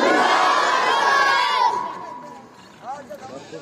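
A large crowd at a religious gathering roars a loud unified takbir chant in response to a speaker, the massed voices fading after a second and a half into quieter murmurs.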